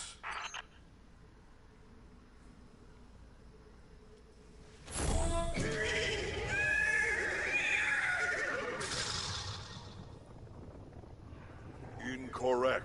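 A horse neighs in the video game Destiny 2, a loud drawn-out whinny lasting several seconds after a brief quiet stretch, with a few sharp clicks at the start and end.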